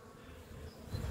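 Honey bees buzz around a beehive feeder, a faint continuous hum of several insects close by with no talking.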